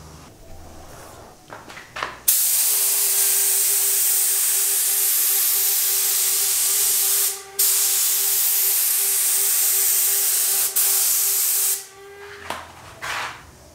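A spray gun laying paint onto a Nissan 350Z sends out a loud, continuous hiss for about ten seconds, broken once by a brief pause, with a faint steady tone underneath.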